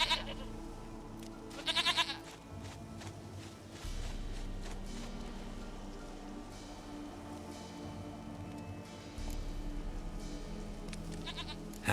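In The Witcher 3, a goat bleats a few times, with short bursts near the start and end, over a steady low ambient drone with occasional rumbling shifts.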